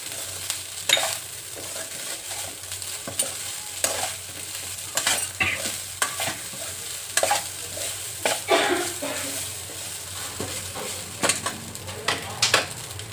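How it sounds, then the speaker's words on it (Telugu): Rice being stirred in a pan after salt goes in, repeated scraping and clinking strokes of a spoon against the pot over a low sizzle, close and fairly busy, with no talking. "సాల్ట్ వేసుకొని బాగా కలుపుకోవాలి"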